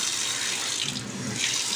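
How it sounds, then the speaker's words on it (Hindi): Water from a motor-fed kitchen tap in a newly plumbed house runs in a steady, moderately loud hiss and splash with no pauses and no talking. "कितना सुंदर सा है पानी आ रहा है"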